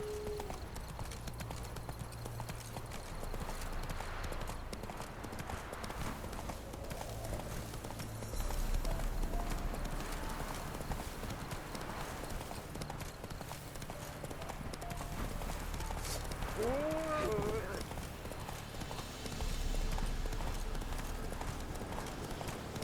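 Horse hooves pounding in a steady galloping clip-clop in The Witcher 3 video game, continuous throughout, with a brief whinny and game ambience around it.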